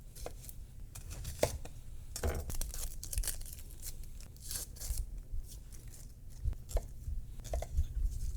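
Knife chopping a peeled shallot into fine brunoise on a board, with sharp, quick cuts in irregular bursts, close and fairly quiet, with no talking.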